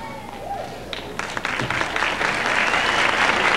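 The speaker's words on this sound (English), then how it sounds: "Applause cue." Applause for dancers winning first place at a dance convention in Las Vegas, a steady wash of clapping that swells and thickens toward the end, with a voice speaking over it early on.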